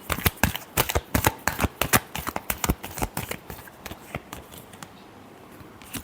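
Tarot cards shuffled by hand in quick riffling bursts, a rapid series of crisp close-up flicks and snaps that come thick at first, then thin out and trail off.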